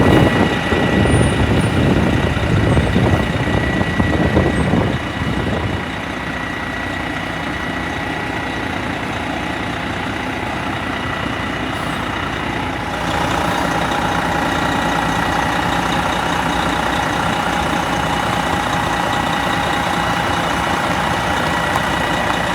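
A Wanderlodge motorhome with a steering tag axle drives and turns, its heavy engine droning steadily nearby, rougher and louder for the first five seconds, then a smoother constant hum, no talking.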